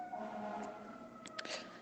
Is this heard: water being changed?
no